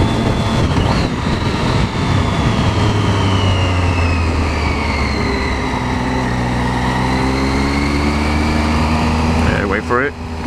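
Triumph Street Triple motorcycle being ridden along country roads, its engine a loud continuous drone with rising and falling pitch that stays steady throughout, under a heavy wash of wind noise.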